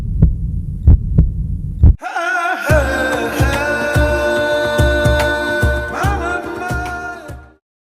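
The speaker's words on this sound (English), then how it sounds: "her heart pounding in fear" A few deep, thudding heartbeat pulses sound alone, then a loud humming dramatic tone swells over continuing rhythmic throbbing before everything cuts off.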